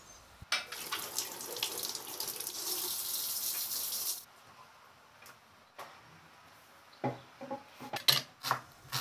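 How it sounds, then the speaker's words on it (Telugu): Ridge gourds are washed under a running kitchen tap. A steady gush of water runs for about four seconds, followed by scattered splashes, clinks and wet handling sounds nearby, with no talking. "చక్కగా బీరకాయల్ని బాగా కడిగేస్తున్నాను"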